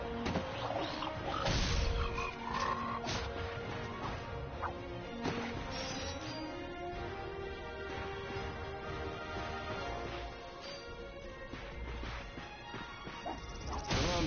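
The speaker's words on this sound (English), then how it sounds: "Look at him smashing crates." Ratchet smashes wooden crates in the Ratchet & Clank video game, with repeated sharp cracking crashes breaking over busy game music and effects, moderately loud.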